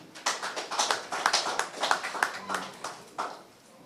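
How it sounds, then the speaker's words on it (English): Applause from an audience at a political gathering in a hall, a spread of claps and taps rising and falling over a few seconds, moderately close, with some voices mixed in. "Please, a round of applause."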